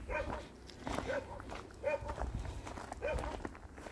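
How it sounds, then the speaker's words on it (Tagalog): Dogs bark several times at a distance on a late-summer countryside walk near Borgo San Lorenzo, with footsteps and faint background sound throughout. "Mga aso."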